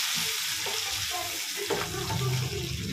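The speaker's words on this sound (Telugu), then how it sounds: "తిరగబోసేసుకొని కొద్దిగా నూనె, ఆవాలు, జీలకర్ర వేసుకొని కొద్దిగా పప్పు వేసేసుకోవాలి" Mustard seeds, cumin and dal frying in hot oil for a tempering, a steady broadband sizzle with small pops and stirring clinks, close and continuous.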